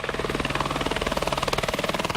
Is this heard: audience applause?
no